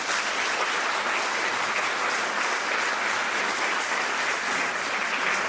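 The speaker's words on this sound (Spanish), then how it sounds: "Un fuerte aplauso para todos ellos." Steady, dense applause from a conference audience at a mental health and wellbeing congress, loud and continuous throughout with no voices over it.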